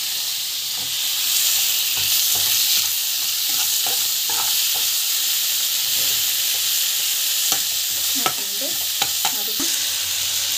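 Ginger-garlic paste and tomato sautéing in a pan, with a steady close sizzle and occasional scraping stirs, no voices.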